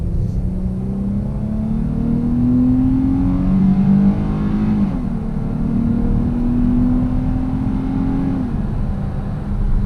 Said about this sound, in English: It is shifting at a little bit higher RPM, and in terms of power, this V6 actually has quite a bit.